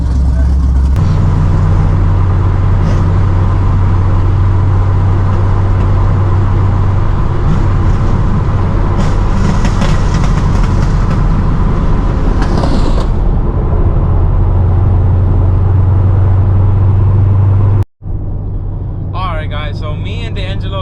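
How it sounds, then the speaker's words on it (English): Interior drive in a Chevrolet Camaro on city streets, with a steady engine drone and road rumble running throughout, then a brief dropout near the end before a quieter stretch. "I'm still in the Camaro heading back home, but I kind of wanted to give you guys an actual POV drive of this car."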